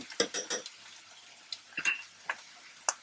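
A metal spoon stirring ground red chilli, coriander, cumin, turmeric and salt through fried potato in a pan, a close run of irregular clinks and scrapes against the metal.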